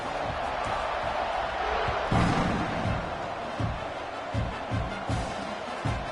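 Stadium crowd in a college football video game roaring before a kickoff, a steady loud wash of cheering with sharper swells and bursts, commentary voices talking over it.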